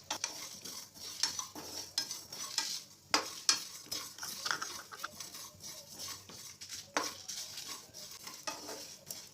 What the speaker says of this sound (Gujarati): હવે આ બધી જ વસ્તુને આપણે શેકી લઈશું